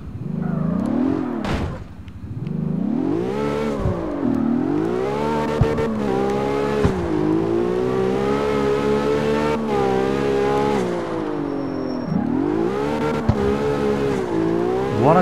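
A Ford GT races through the CarX Street driving game, its engine droning loud and steady with repeated rising and falling revs as it shifts gears. A short tire squeal breaks in now and then.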